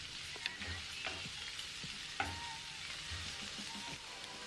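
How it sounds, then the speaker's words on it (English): Sliced onions frying in cooking oil in a pan, a steady low sizzle with occasional soft scrapes and taps of a utensil stirring, close and even throughout, with no talking. "add in 2 to 3 tablespoons of cooking oil. Then add in the onions."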